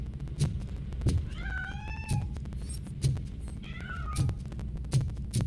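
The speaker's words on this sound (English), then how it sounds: "That cat must be hiding inside." A cat in the RoboCop: Rogue City video game meows twice in clear, drawn-out calls. Sharp game thumps and clicks punctuate the scene.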